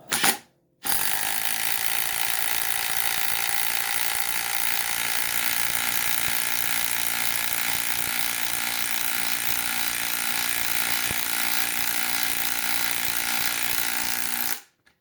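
DeWalt impact driver driving a fastener into wood, a loud continuous rattling hammer burst lasting about fourteen seconds, starting and stopping abruptly, with no voices.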